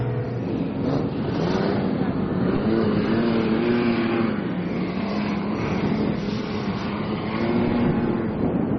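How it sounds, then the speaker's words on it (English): A Mitsubishi's engine roars continuously while driving over bumpy desert sand dunes, a steady loud drone with wavering pitch heard from inside the vehicle, without pause. "You can hear the engine roaring. This Mitsubishi is nuts."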